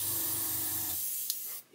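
Thin, watery paint sprayed from an airbrush onto a 1/48 Airfix Sea King model kit: a steady close hiss lasting about a second, then tapering off with a short puff near the end.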